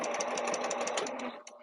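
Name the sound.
sewing machine stitching pouch lining slowly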